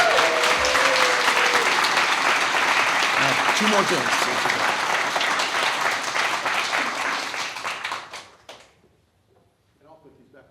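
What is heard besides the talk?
audience applause at city commission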